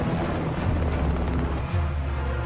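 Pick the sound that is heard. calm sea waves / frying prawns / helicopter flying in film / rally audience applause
helicopter flying in film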